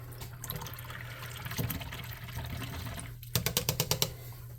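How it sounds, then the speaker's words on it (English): A paintbrush is swished and rinsed in a jar of paint water, a soft faint liquid sloshing that ends in a quick run of sharp taps as the brush knocks against the rim. "Let me wash my brush."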